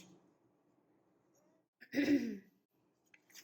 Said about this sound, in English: The way I'm clearing my throat